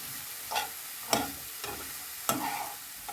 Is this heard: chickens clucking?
no